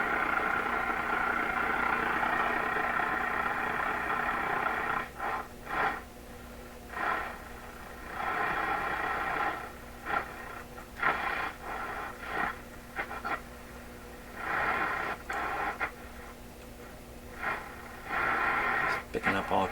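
Florida AM/FM/SW tube radio being tuned, giving off steady hiss and a low hum broken by bursts of crackling static and noise that swell and cut out irregularly.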